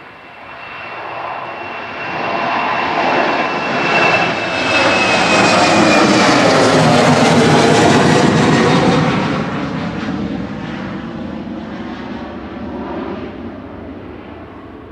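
An Air France airliner departs Manchester Airport, its engine roar swelling to a loud broadband peak as it passes, then fading steadily into a distant rumble, with no talk over it.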